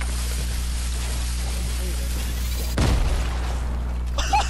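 Grenades going off in a Fortnite match: a loud, sharp blast hits about two-thirds of the way in over a steady low rumble of game sound, followed by smaller pops and crackle.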